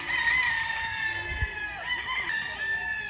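Gamefowl bull stags crow at a gamefarm. One clear, drawn-out cock-a-doodle-doo carries over a busy background of other birds and faint farmyard noise.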